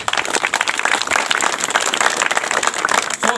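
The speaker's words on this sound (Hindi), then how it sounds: "तालियां।" An audience at a talk by Chitranjan Oraon breaks into applause. Many hands clap in a dense, steady roar that is loud and continuous throughout, with no speech over it.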